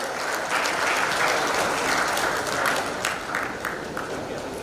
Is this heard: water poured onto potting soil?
no